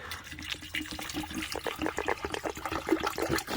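Water is poured into a camping pot during a truck camping trip, making a continuous splashing, gurgling pour that lasts the full few seconds at close range.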